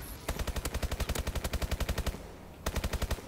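AK-12 automatic fire in Call of Duty Advanced Warfare: a rapid, evenly spaced string of loud shots, a brief pause, then another quick burst, close and alone.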